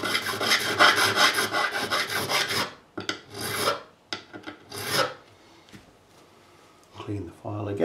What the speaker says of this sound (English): Always keeping your files clean. Profiling, removing any burrs.